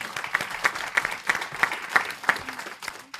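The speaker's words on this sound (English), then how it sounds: "So please give Danielle a round of applause." An audience claps for a speaker named Danielle at a plenary session, a short burst of steady, dense applause close by with no voices over it.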